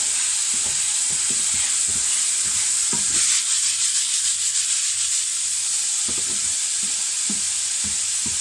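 Meat searing in a pan for paella gives a strong, steady hiss, with rhythmic scraping strokes of a utensil stirring and turning the pieces.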